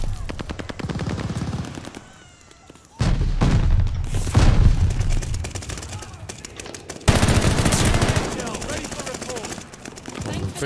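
Automatic gunfire from a weapon in Call of Duty Vanguard, rapid dense bursts with louder booming stretches, running almost continuously across the clip with a brief lull, mixed with other game noise.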